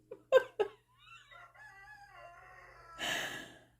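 A colorful rooster crows once in a drawn-out, wavering call, close and moderately loud. Brief clucks come just before it and a breathy rush follows.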